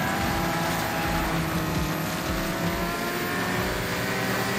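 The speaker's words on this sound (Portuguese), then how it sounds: "o som desse motor é muito feio" Car engine droning loudly and continuously during drifting, a dense, rough sustained roar with steady pitch and a faint tyre and road hiss, close and unbroken, with no talking.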